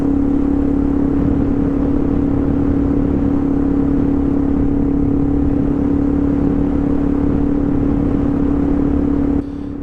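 Off-road ride on a 2021 Suzuki DRZ400 motorcycle, its engine a steady close drone with a strong low hum and wind rush running unbroken throughout, easing slightly at the very end.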